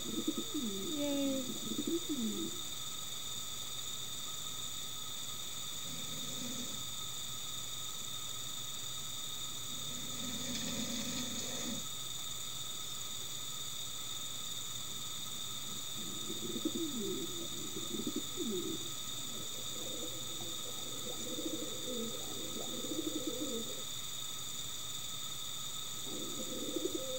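Pigeons or doves coo outside in spring, soft low calls repeating in short bursts with gaps between them over a steady faint hiss, fairly distant and quiet, with no talking.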